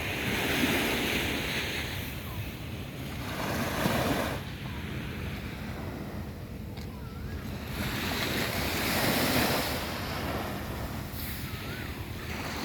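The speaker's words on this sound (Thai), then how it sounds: "คืนทะเลนิ่งๆนะครับ" Calm sea washing onto a beach at night, with low steady surf rolling in gentle swells and soft wind rumble across the microphone, no voices.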